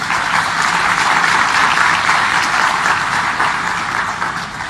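Crowd at a Ram Katha religious gathering clapping for a shehnai player, a thick, sustained roar of applause that holds steady and fades slightly at the end.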